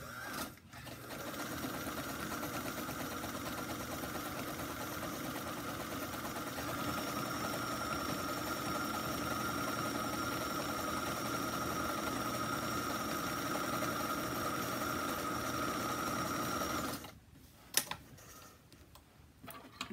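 A sewing machine stitches a bowl cozy with a steady, fast mechanical whirr that runs unbroken for about seventeen seconds, close and even, then stops, leaving a few faint handling clicks.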